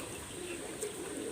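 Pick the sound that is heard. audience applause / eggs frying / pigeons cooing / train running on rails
pigeons cooing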